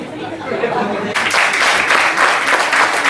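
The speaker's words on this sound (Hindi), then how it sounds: "जोरदार तालियां साथियों" Applause breaks out at a retirement farewell celebration in Delhi after a stretch of murmuring crowd, then claps continue strongly with chatter and a few chuckles mixed in.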